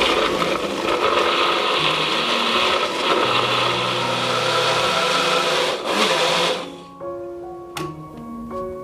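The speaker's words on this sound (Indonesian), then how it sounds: "ini akan kita blender sampai bumbunya halus" An electric blender grinds a paste of ginger, turmeric, galangal, chili, bird's eye chili and cooking oil, roaring loud and steady for about six seconds. It then cuts off, and scattered small clinks and taps follow.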